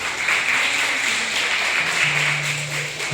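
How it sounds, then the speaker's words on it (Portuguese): Congregation applauding during a Communion church service, a steady wash of many hands clapping together at moderate distance, with a low sustained organ-like tone underneath. "Vamos aplaudir a Deus para a vida dessas pessoas."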